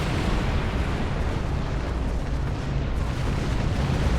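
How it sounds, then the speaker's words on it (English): A spaceship explodes in the Star Trek Online video game, a sustained, loud, roaring blast of broadband rumble that holds steadily for several seconds without a break. "I wanted to watch the explosion, not see in my windows"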